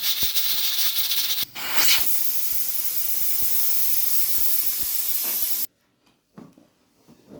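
Loud, steady steam hiss from a pressure cooker as its weight is lifted after cooking keema, lasting about five seconds, then cutting off abruptly, leaving near silence with a few faint knocks.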